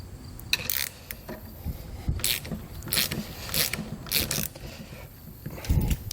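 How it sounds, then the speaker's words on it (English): A 19mm wrench and socket tighten a lock nut on a vehicle base plate kit, with repeated close ratcheting clicks and metallic scraping in short irregular bursts. "19mm wrench and socket to go ahead and tighten this down"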